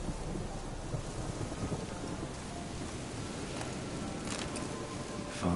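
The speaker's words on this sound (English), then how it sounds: "Storm, damn it." Thunderstorm in The Witcher 3 video game: dense steady rain hiss with low rumbling thunder rolling beneath it, continuous and fairly loud throughout, no voices.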